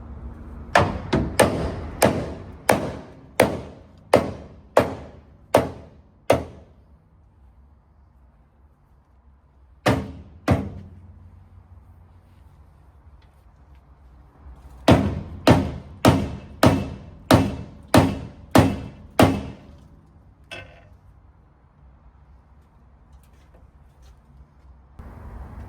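Loud, evenly spaced metallic hammer blows strike a bent steel part of a wood chipper to straighten it, coming in three bursts of rapid strikes separated by quiet pauses, close and sharp with ringing decay.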